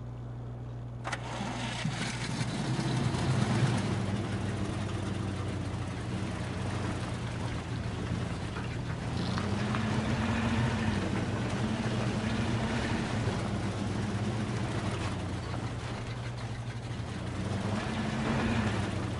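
A heavy truck engine drives in MudRunner, a continuous low rumble that surges and revs in waves throughout, fairly loud and steady with no voices.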